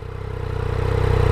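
A 2017 Yamaha FZ-09 / MT-09 motorcycle engine idles with a steady low thrum that gradually builds in loudness and pitch as it starts to rev.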